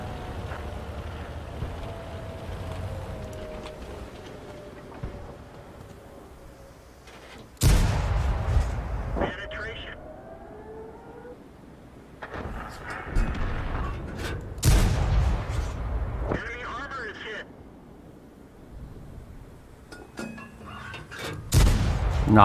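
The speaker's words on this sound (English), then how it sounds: "that shot went way high" Tank cannons firing in World of Tanks, several heavy booming shots with sharp onsets spaced a few seconds apart, each trailing off in a rumbling echo over a low engine drone.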